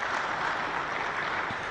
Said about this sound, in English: let's acknowledge them with a round of applause